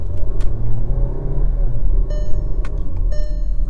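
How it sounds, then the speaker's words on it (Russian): VW Golf 7 with a 1.6 engine and automatic transmission driving, a steady low engine and road rumble heard from inside the cabin, with faint tonal chimes near the end. "двигатель, ну, он просто шепчет, он реально очень тихо работает"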